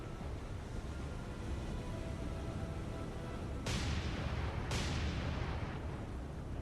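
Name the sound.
warship guns firing in video game War on the Sea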